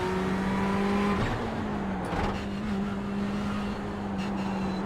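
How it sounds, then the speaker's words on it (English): A race car in iRacing runs on track with a steady engine drone and a high, sustained transmission whine that shifts pitch briefly, moderately loud and continuous, with no talk. "I love the transmission whine."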